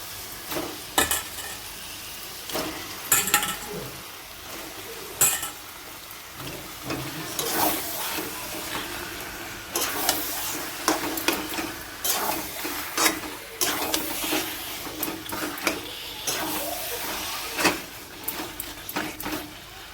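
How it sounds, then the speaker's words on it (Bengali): Chicken stir-fried in ground spice masala in a pan, a soft continuous sizzle with frequent scraping and clattering spatula strokes, close by and moderately loud, no voices. "মাংসগুলো দিয়ে দেবো, ভালো করে কষবো।"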